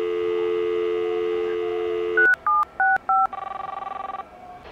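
A dial tone gives way to several quick keypad beeps, then a pulsing ringback tone on the line.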